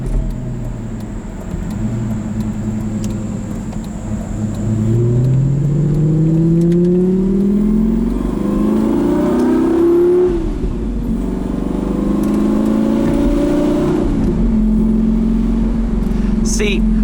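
A 2007 Lamborghini Gallardo Spyder with a manual gearbox pulls up through the gears, its engine note climbing and dropping at each upshift, loud and close from inside the car, with no talk.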